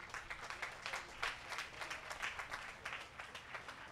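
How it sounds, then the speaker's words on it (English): A graduation ceremony crowd claps for the IT team, a faint, distant patter of scattered hand claps with an uneven rhythm. "So a big round of applause for the whole IT team."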